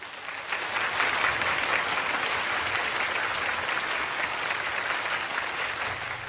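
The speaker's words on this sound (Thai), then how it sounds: "เป็นประโยคที่เรียกเสียงปรบมือดังกึกก้องมากที่สุด จากการกล่าวสุนทรพจน์ในวันนั้น" Thunderous applause from a large audience after a speech by Xi Jinping, a dense, sustained roar of clapping that stays loud and steady throughout with no voices over it.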